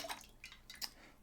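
Pressed coconut juice pouring and splashing: a few quiet, short wet splashes and drips in quick succession, faint and close.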